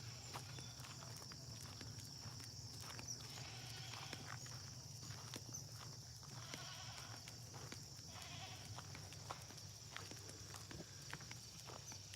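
Goats and sheep on a farm bleat faintly now and then while hooves and footsteps shuffle and clatter close by, with a constant background hum and no talking.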